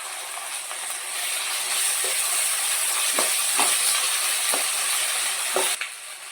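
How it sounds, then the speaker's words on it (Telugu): Ginger garlic paste frying in a pan for mutton curry, a continuous bright hissing sizzle with several clanking stirs of a spoon against the pan, ending abruptly. "ఇప్పుడు అల్లం వెల్లుల్లి పేస్ట్ మనం వేసుకోవాలి. మొత్తం మళ్ళీ కలపాలి."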